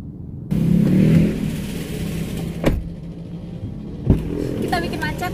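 Cars and motorbikes idle and creep forward in a Bandung traffic jam, with engine rumble, a motorbike revving nearby and brief loud passes, under intermittent talk.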